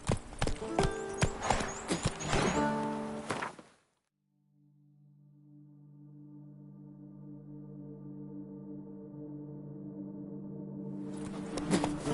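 Roach the horse gallops in The Witcher 3, with rapid, loud hoofbeats that stop abruptly. A low sustained tone follows, then hooves and activity return near the end.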